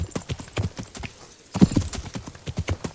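Horse hooves clip-clop in Kingdom Come: Deliverance, a quick steady rhythm of close, distinct hoof strikes that pauses briefly partway through, then resumes more loudly, with no talking over it.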